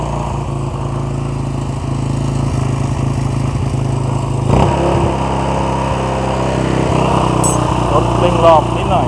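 A Honda Wave 100 motorcycle fitted with a Wave 125X carburetor idles close by with a steady, loud engine drone. About halfway through there is a brief rise in revs, and a faint voice comes through under the running engine.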